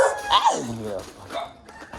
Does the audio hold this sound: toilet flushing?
no